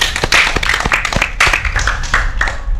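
A small group claps briefly for a young motorcycle racer, distinct sharp hand claps at close range, irregular and loose, fading out after a few seconds.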